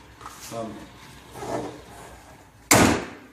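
Door of a Ferrari 360 being worked, with soft handling sounds followed by one loud, sharp thump as it shuts, and someone talking over the earlier part.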